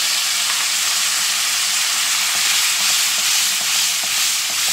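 Blended tomato paste fries with ginger and garlic in a hot pan, a loud, steady, close sizzling hiss with faint crackles throughout and no talking.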